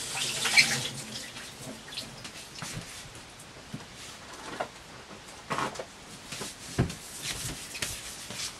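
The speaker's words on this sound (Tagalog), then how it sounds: "So ngayon, hugasan ang kamay ko." Hands washed under a running tap in a home kitchen while making colorful kalamay with jackfruit: steady soft water flow with splashes and brief louder gushes, fairly close, no talking.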